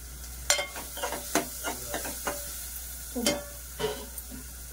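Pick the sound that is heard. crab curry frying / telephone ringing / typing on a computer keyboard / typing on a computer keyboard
crab curry frying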